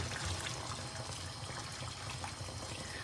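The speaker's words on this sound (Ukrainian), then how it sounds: "просто додаю кип'ячену воду" Boiled water is poured into a pot of buckwheat with vegetables, a steady low splashing trickle heard close and fairly quiet, with no talking.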